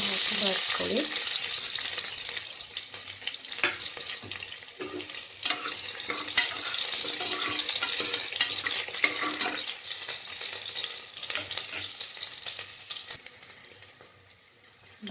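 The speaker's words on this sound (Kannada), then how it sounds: "ಈಗ ಈರುಳ್ಳಿ ಕೂಡ ಹಾಕಿ ಬಾಡಿಸ್ಕೊಳ್ಳಿ." Onions sauté in a hot pan with a dense, continuous sizzle up close and intermittent stirring, the hiss dropping away sharply just before the end.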